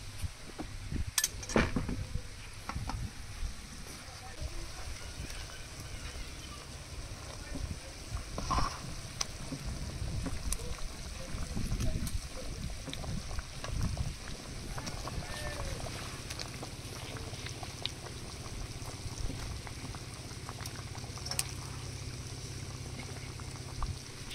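Broth of garden-fresh kohlrabi and fish simmering at a steady boil in a pot, with a continuous low bubbling texture, some brief clatter as fried fish pieces are added, fairly close and moderately loud.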